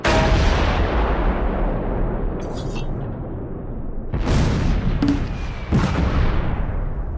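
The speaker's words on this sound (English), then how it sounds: "Kirk opens a mortar fire mission." Mortar rounds fall in a Close Combat 4 fire mission in the Battle of the Bulge at Weiler, a steady heavy rumble of detonations with fresh loud blasts bursting in around the middle and end.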